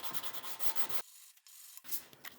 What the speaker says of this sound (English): I'm going to take a little flat board. I'm going to go back and forth.